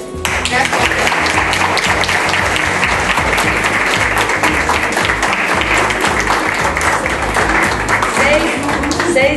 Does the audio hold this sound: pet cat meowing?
no